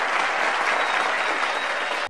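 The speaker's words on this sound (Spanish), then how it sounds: "¡Venga, ese aplauso para el influencer del año!" A crowd applauds loudly and steadily for about two seconds at the Free Fire Awards ceremony, then the clapping cuts off abruptly.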